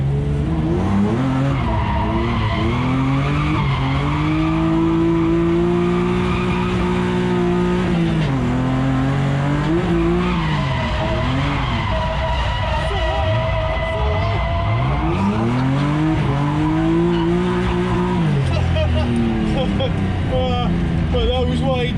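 A BMW E36 M3 drifting on a track, its engine loud and revving as the tyres squeal continuously through long sliding arcs, with engine pitch rising and falling across repeated clutch-kicked slides.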